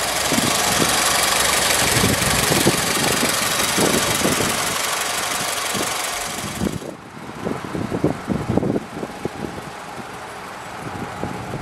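A 2004 Honda Civic Coupe with an automatic transmission idles steadily just after start-up, a close, even engine hum with a faint mechanical tick and no voices.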